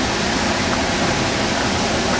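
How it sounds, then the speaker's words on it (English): High Force Waterfall in County Durham roars as a steady, dense broadband rush of falling water, continuous and fairly loud with no voices over it. "Here we are at High Force Waterfall in County Durham"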